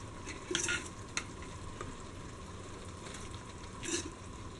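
Cooked rice is stirred into beef gravy in a pan for a Kerala-style beef biriyani, soft sizzling under a few scraping spoon strokes and brief clinks, close and quiet.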